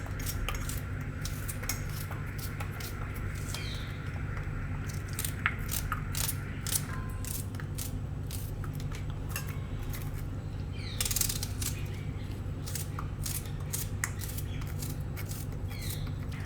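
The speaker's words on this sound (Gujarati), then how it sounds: "તો ડુંગળી આપણે સુધારી લીધી." A knife chops onion into medium pieces on a board in a home kitchen, giving irregular sharp taps and clicks close by over a low steady hum.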